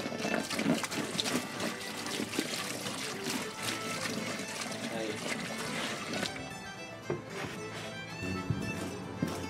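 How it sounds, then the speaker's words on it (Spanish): Water pouring and splashing onto a compressed coconut fibre block as it hydrates for an urban pallet garden, a continuous rushing, trickling flow heard up close. "Le tenemos que añadir 24 litros de agua y nos formará 70 litros."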